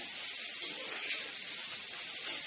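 Steady high hiss of tempering spices sizzling in hot oil for a banana stem coconut curry, close and continuous with no talk over it.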